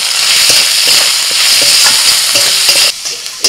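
Spices with tomato fry loudly for a banana flower curry, a dense close sizzle with rhythmic stirring scrapes that drops away abruptly near the end.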